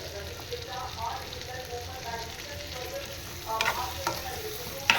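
Eggplant sautéing in a pan with spice masala, a steady soft sizzle with scraping stir strokes growing louder toward the end.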